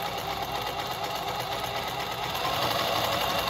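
Consew 146RB-1A-1WS industrial zig-zag sewing machine stitching continuously, a loud, steady close-up whir with a fine rapid needle rhythm and no pauses, no voices over it.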